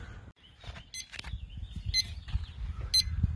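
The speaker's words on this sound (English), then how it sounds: "I got this set for an alarm to let me know as soon as we're ready to start dialing her back down" A barbecue smoker's temperature alarm on a brisket cook sounds a repeating electronic beep roughly once per second, the high tones ringing above soft rustling and low handling noise nearby.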